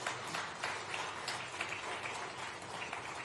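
A large diaspora audience applauds Prime Minister Modi at a Madhya Pradesh Chief Minister's event, a steady, dense wash of clapping heard from a distance, continuous with no talk over it.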